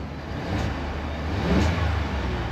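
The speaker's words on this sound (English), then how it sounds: "Can definitely hear a little bit of the turbos and just that awesome whoosh sound of this turbocharged engine." Turbocharged 3.5L V6 in a 2024 Ford F-150 King Ranch 4x4 revs in two steady low swells with a faint turbo whoosh, heard close and alone.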